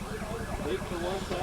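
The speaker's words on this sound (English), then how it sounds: "we have an ambulance" An ambulance siren wails as the ambulance speeds off near a Champlain Valley Baseball League game, heard as a steady rising and falling tone under a broad wash of crowd and outdoor noise.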